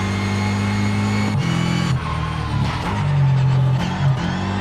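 Opponent race cars in Test Drive Unlimited Solar Crown close in from behind, their engines droning steadily with rising revs and shifting pitch, loud and continuous with no talk.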